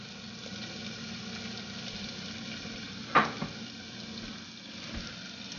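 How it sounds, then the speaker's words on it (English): Chopped carrots sizzle faintly in a pot preheated on medium heat, with a soft, steady frying hiss and a brief clatter partway through. No one speaks. "My pot's been heating on medium heat. And I'm going to add the carrots."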